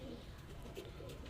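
Green-necked high flyer pigeons coo softly and steadily in a low murmur, with faint irregular rustling and occasional brief higher calls mixed in.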